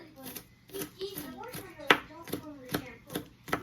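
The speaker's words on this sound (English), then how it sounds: "Let me grab my onion and chop that up." Half an onion chopped finely with a knife on a board, a series of about nine crisp, evenly spaced chops close by, with a person talking over them.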